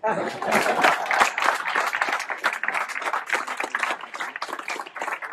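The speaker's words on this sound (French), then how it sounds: "vous pouvez nous applaudir" Audience at the Sonneur est dans l'pré event in Hélléan claps in a sustained, dense burst of applause lasting the whole stretch, close and fairly loud, with voices mixed in.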